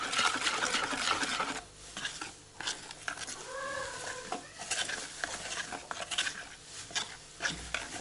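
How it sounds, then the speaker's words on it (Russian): Close, irregular scraping and tapping as a whisk stirs oat pancake batter in a bowl, in quick uneven bursts with short pauses between strokes. "Я всегда тесто для блинов с венчиком сразу мешаю, и тогда никаких комочков не будет."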